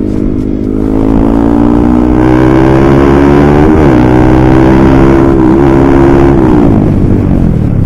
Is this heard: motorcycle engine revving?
yes